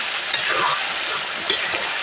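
Chicken curry meat sizzles and fries in a pan while being stirred, a steady close crackle with a couple of sharper scraping stir strokes, no voices.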